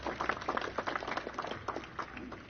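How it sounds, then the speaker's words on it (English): Applause from an audience at a university graduation ceremony, a dense patter of many hands clapping steadily at moderate distance for a few seconds, with some crowd murmur mixed in. "They deserve a clap."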